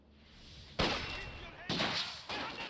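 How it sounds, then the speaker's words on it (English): Gunfire in Company of Heroes 2 sounds as three sharp, loud cracks about a second apart, each ringing out into a noisy decay over low battlefield rumble. "I can hear the guns firing."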